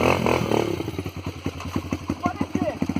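A Honda Bros motorcycle on a dirt trail climbing an embankment putters along nearby with a rhythmic, chugging engine pulse and some clatter, while people talk over it.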